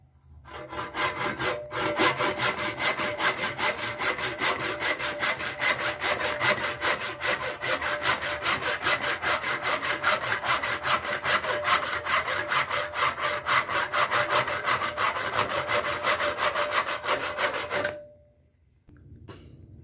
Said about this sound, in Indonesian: saya akan coba menggergaji ini sebuah doran cangkul yang kayunya lumayan cukup keras ya